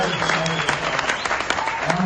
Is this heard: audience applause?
yes